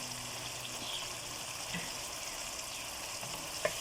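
Chicken karahi frying in a pan, a steady close sizzle with occasional soft stirring scrapes throughout, no voices.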